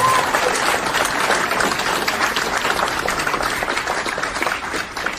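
Steady applause from a crowd, loud and continuous with a few cheers mixed in, fading slightly at the end.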